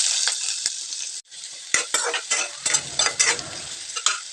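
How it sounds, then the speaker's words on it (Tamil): Finely chopped onions are stirred and fried with mustard seeds in hot oil for a brinjal dish. A loud hissing sizzle breaks briefly, then returns with repeated spatula strokes scraping the pan in an uneven rhythm. "இப்போ வெங்காயம் சேர்த்துக்கலாங்க."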